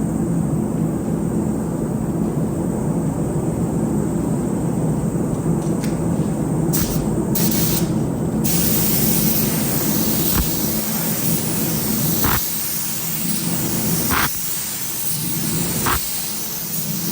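A spray gun lays down a second coat of 2K automotive primer, giving a steady close hiss of air and atomised paint that runs throughout with a few brief breaks near the end.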